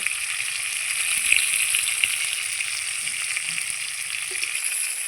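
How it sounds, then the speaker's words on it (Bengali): A piece of katla fish fries lightly in hot oil, giving a steady, even sizzle with faint crackles. It runs on without a break and is close, with no one speaking. "এই পিসটা একটু ভেজে নেব তারপরে আমি মাছটাকে নামিয়ে নেব খুব কড়া করব না একদম হালকা ভেজে নেব"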